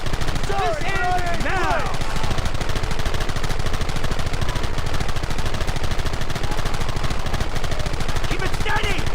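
Gunfire in the video game Red Dead Redemption, rapid, loud, continuous bursts of shots cracking over game music, with short spoken calls heard during the firing.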